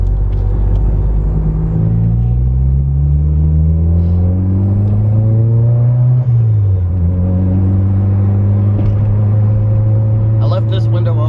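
A car engine with a Makspeed blow-off valve revving up to full throttle, loud and close, its pitch rising over several seconds, dropping briefly, then climbing again in a sustained droning roar, with a faint hiss near the end.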